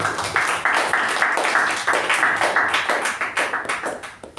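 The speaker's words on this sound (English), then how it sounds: "Round of applause to Toastmaster Sakshi" A small audience at a Toastmasters meeting applauds, a brisk, even run of close hand claps that stays loud for several seconds before tapering slightly, with no speech.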